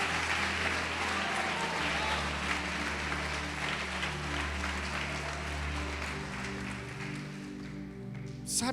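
Louder, sustained applause from a church congregation fills the hall, a dense clapping wash that tapers slightly near the end.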